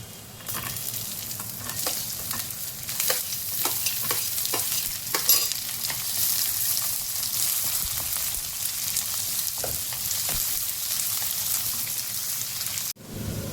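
Onion frying with garlic-ginger paste and curry leaves in a pan for a Konkani dish, a steady close sizzle broken by scattered spoon scrapes and taps, ending with a brief dropout near the close.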